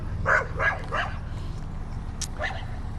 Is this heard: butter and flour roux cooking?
no